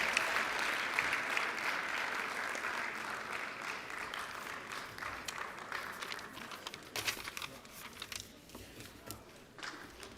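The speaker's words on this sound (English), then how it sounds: "Let's give them a round of applause as they make their way around." Sustained applause from an audience at a university physician assistant white coat ceremony for the class of 2022, a dense, steady patter of many hands that gradually thins toward the end.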